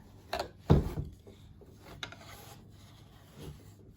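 A wooden weaving loom's shed is changed, giving a couple of sharp wooden knocks and rubbing clunks near the start, followed by quieter creaks and shuffles.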